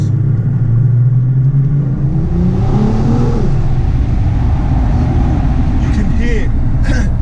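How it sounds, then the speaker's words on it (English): A Nissan GT-R R35's turbocharged engine pulls hard on a country road, its note rising as it accelerates, with intake whoosh and exhaust rumble up close and a voice talking over it. "You can hear that induction coming from the power of the exhaust"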